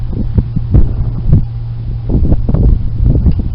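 Strong wind blows outdoors, a loud, gusty low rumble buffeting the microphone in uneven surges from start to finish.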